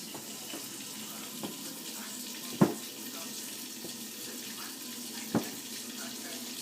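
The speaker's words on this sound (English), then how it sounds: "Let me turn this hot water on." Hot water running steadily from a kitchen tap into a sink while tortillas are made, a continuous close hiss with a couple of brief knocks and clatters over it.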